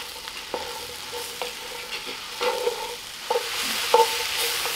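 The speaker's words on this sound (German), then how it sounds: "Wir geben jetzt die Zwiebeln rein. Die halten wir mal schön in Bewegung, dass sie uns nicht verbrennen." Onions frying in a Dutch oven while being stirred: a soft steady sizzle broken by several distinct scraping and clanking stirs against the pot, close and moderately quiet, no voices.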